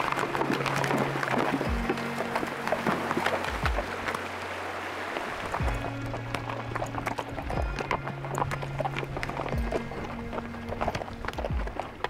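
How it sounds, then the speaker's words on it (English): Horses carrying riders on a backcountry trail in grizzly country, hooves clip-clopping in a steady, fairly close walking rhythm throughout, with faint background noise and no talking. "Ride the horses and enjoy the scenery."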